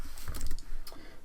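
Quick burst of keystrokes on a computer keyboard, several close clicky taps in a rapid cluster then a brief pause and a few more, with no voice.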